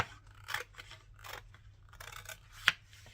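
Scissors snip through a paper file folder in several close, quiet crunching cuts with rustling paper between them and one sharper snip near the end.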